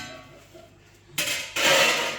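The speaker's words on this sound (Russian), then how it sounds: "Сейчас будем мы их нанизывать на шампура для жарки на гриле." Marinated chicken wings pushed onto metal skewers for grilling, with metallic scraping and clinking that starts faint, then two loud bursts of metal on metal near the end.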